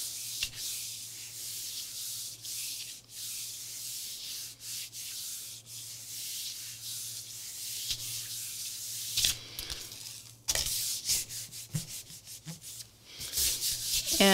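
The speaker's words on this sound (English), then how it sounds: "So you want to rub this with quite a bit of pressure." Fabric rubbed firmly by hand against a Gelli printing plate gives a steady, close scratchy rubbing, broken by brief pauses and a few sharper strokes near the end, over a low constant hum.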